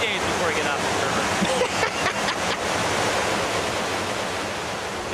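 Rushing river water on a canoe expedition across Scandinavia, a loud, steady broadband roar of current and whitewater filling the scene from start to finish, with no clear voices above it.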